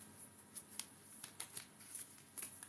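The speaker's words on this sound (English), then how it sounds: "let's take some moon cards and we'll shuffle the energy in these moon" A deck of moon tarot cards being shuffled: soft, faint riffling and flicking in a quiet room, with a string of small crisp snaps spaced unevenly through the shuffle.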